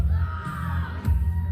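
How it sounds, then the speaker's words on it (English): A crowd at a Blaze Pro Wrestling event roars and whoops amid heavy pyrotechnics and fireworks, a loud, sustained wash of cheering with a low rumble underneath and a brief swell near the end. "The crowd is going off."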